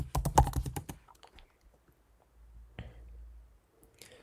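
Rapid keystrokes on a computer keyboard as a web address is typed, a quick burst of close clicks followed by a few scattered taps and a low background hum.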